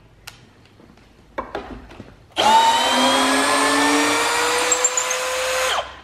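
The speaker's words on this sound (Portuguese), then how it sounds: "Uma furadeira pequenininha dessa, leve desse jeito, conseguir enterrar um parafuso dessa grossura numa madeira dessa" A small Bosch GSB 185-LI cordless drill whirs up sharply and runs steadily for several seconds driving a thick screw into wood, its motor pitch sliding slightly as it works, after a few faint knocks.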